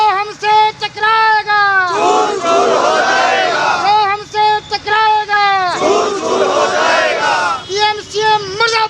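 Protesting government employees on a street in Jind chant slogans against the PM and CM, a leader's voice calling out lines answered by a loud crowd shouting back in repeated waves.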